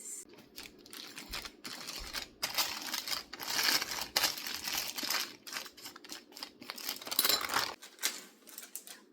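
A dough scraper drags along a plastic piping bag to push out leftover icing, producing steady, close crinkling and scraping strokes in irregular bursts with no talking.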